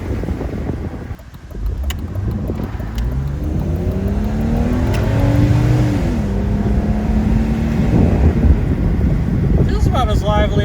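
A silver BMW E46 330Ci coupe cruises down a street, its engine drone rising and shifting through gears with steady road and wind noise, heard from inside the car.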